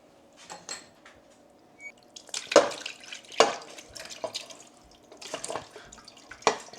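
Cooked spiral pasta in a soupy cheese sauce is poured into a white baking dish, making wet, irregular splats and plops in scattered bursts, close by.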